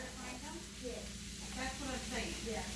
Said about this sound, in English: I just want to kind of move it around because I want to reheat this